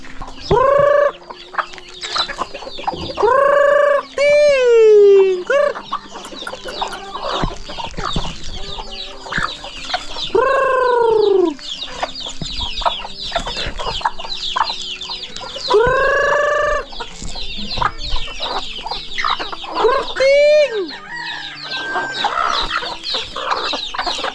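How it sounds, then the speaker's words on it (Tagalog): Several native chickens cluck and squawk close by, with a few rising calls and crowing bursts repeating every few seconds over a quiet farmyard background. "Tingnan natin yung mga manok ni Tatay Riot kung gaano nakarami."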